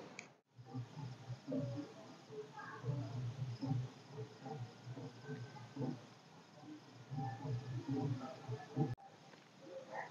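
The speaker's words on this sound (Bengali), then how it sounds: "একদিকে ঝিঝি পোকার ডাক" Crickets chirp steadily through a quiet night, with muffled low voices and faint background noise underneath.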